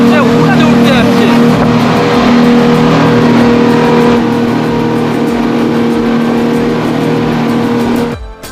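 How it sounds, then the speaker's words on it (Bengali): A speedboat engine drones loud and steady as the boat runs over the sea on a Phuket to Phi Phi Island tour, with rushing wind and water and faint voices mixed in, fading slightly at the very end. "বোট মনে হচ্ছে উঠতে উঠতে যাচ্ছে"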